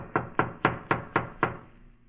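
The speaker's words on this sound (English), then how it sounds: "I better knock again." Six firm knocks on a wooden door in a radio drama, evenly spaced and close, ringing out alone with no voices over them.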